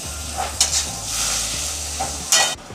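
Fenugreek greens frying in a pan for a Bengali begun methi shaak, a steady close sizzle with stirring scrapes and a few sharper bursts of hiss, no talking.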